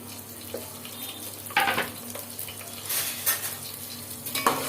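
Spices and green chilies frying in a pan while being stirred, with a soft steady sizzle and intermittent scraping stirs, fairly quiet and close.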